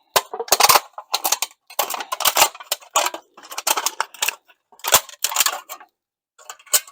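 Aluminium cans are cut up, with a rapid series of sharp metallic snips and crunches in irregular clusters. The sound is close and bright, with brief pauses between the cuts.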